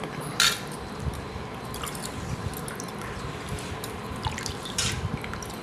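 A fragrant additive is stirred into a container of water, giving soft sloshing, dripping and squishing liquid sounds with a few sharper splashes, close and continuous.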